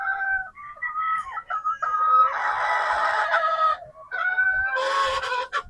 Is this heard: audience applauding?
no